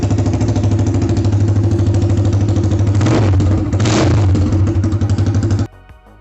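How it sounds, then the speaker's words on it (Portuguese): A single-cylinder motorcycle engine, the kind found in a small 250 cc street bike, runs steadily with a loud, even low thumping pulse and two brief revs near the middle. It then cuts off abruptly near the end. "todo mundo aqui já conhece o som de um motor monocilíndrico, ou seja, apenas um cilindro, como de uma CG ou uma Phaser 250"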